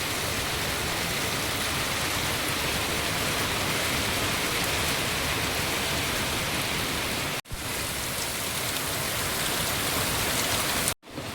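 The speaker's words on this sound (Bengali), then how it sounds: "কি হারে বৃষ্টি হচ্ছে আজকে।" Heavy rain pours steadily onto a road outdoors, a dense unbroken hiss close by that holds its loudness throughout apart from two very brief cuts, with no voices over it.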